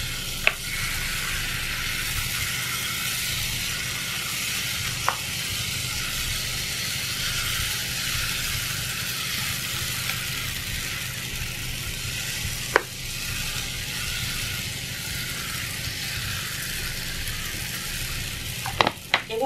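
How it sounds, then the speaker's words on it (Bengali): Chit ruti rice batter poured from a bottle into a hot pan sizzles steadily and loudly, a constant frying hiss broken by a few sharp clicks and taps from the pan. "এখন আমি এই ব্যাটার থেকে বোতলটা নিয়ে অল্প অল্প করে ঘুরিয়ে ঘুরিয়ে দিতে থাকি।"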